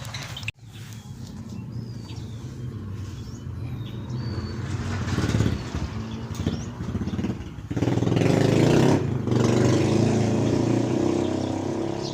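An outboard boat motor approaches and passes near a fishing spot, its rough engine drone swelling louder through the second half and staying close and strong at the end.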